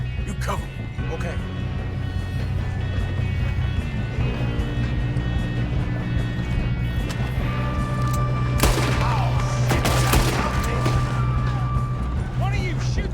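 Gunfire during a train robbery in Red Dead Redemption 2, with sporadic shots and a burst of louder cracks near the end over a constant rumble, while characters talk throughout.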